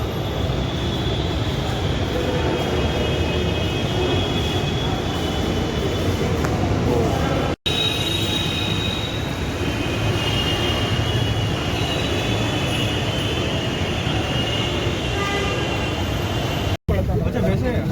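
Rumble of a train at a busy Delhi metro station, a steady, loud broadband roar of the railcars running continuously through the whole stretch, with people talking over it.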